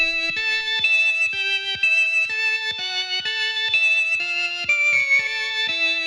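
A psychedelic rock recording plays a repeating sustained melody in a swirling organ-like tone, with lead guitar through a rotating Leslie speaker, steady and clear with no voices over it.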